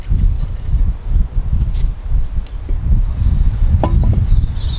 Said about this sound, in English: It's a bit windy, so I'm just going to hold it down.